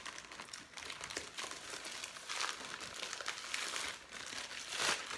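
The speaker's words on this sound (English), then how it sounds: "I like to store them in a freezer safe Ziploc bag." A freezer-safe Ziploc bag holding frozen, peeled ripe bananas crinkles continuously as it is handled, a close, fairly loud plastic rustle with small bursts and no talking.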